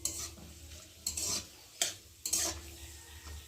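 Cashews and raisins fry with cinnamon in a pan, a soft close sizzle broken by several sharp bursts of stirring and scraping at irregular intervals, with no talking.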